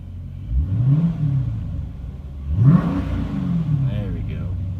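A Dodge Challenger Scat Pack with a shaker hood scoop revs its engine in two strong swells that rise and fall, a deep close rumble followed by a steadier idle, with someone talking throughout.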